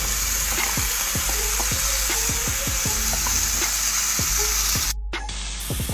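One whole diced onion hits a hot pan for tacos and sizzles steadily, with a scatter of sharp taps and scrapes from stirring over the continuous frying hiss.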